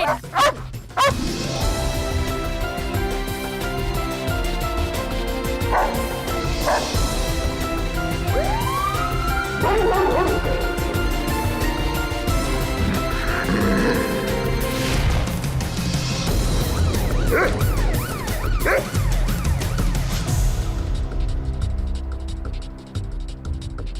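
Police dog barking repeatedly during a London Metropolitan Police raid, loud close bursts of barks and yips over a background siren, with some whimpering.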